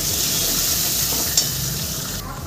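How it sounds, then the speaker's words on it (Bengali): A spice paste with turmeric, salt and a splash of water being fried down in a pan for a rohu fish curry with vegetables makes a continuous close sizzle, with a single faint stirring tap partway through. "মশলাটাকে আমি সুন্দর করে কষিয়ে নিচ্ছি।"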